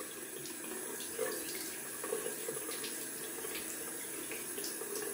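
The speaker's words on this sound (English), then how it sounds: "Gonna take some cold water and add that to my face." Cold water runs steadily from a tap into a sink, a continuous splashing hiss with occasional louder splashes as water is splashed onto a face.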